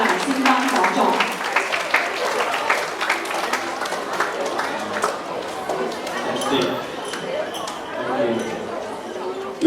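A school English awards ceremony audience claps to welcome a guest speaker, crowd applause with murmuring and a voice over it, fading toward the end.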